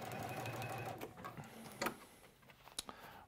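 An overlocker stitching a seam on a parka hood hums steadily at a low level, then gives way to a few faint ticks and clicks as it slows and stops.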